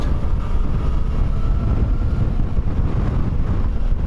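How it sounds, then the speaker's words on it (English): Breezy wind buffets the microphone outdoors on a sunny countryside walk, a steady loud low rumble throughout. "So it's a little breezy."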